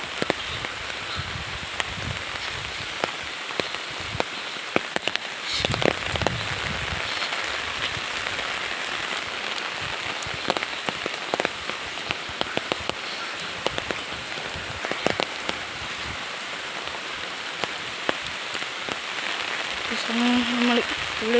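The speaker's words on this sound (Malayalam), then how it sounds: "ഫുള്ള് മഴയായിട്ടുണ്ട്." Heavy rain pours steadily on surfaces outdoors near a stream, a dense continuous hiss with scattered louder drops and occasional faint background sounds throughout.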